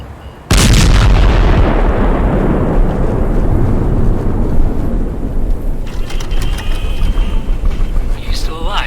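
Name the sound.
gunfire and explosions sinking cruiser, video game Last Days of Lazarus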